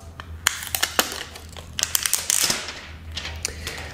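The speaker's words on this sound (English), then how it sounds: "go ahead and peel this off" Protective film being peeled off a new Samsung Galaxy A70 phone, crackling and crinkling in irregular bursts, close and fairly quiet, with a longer tearing crackle midway and no talking.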